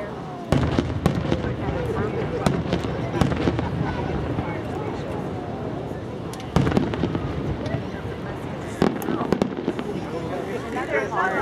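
Fireworks bursting at an outdoor fireworks festival, loud booms and crackling pops recurring throughout, with people talking and cheering nearby.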